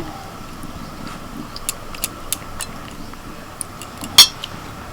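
Poppy seed paste is worked into beans inside a metal tiffin box, giving light scraping and repeated small metallic clinks of a spoon against the container, with one louder clank near the end over a steady background hum.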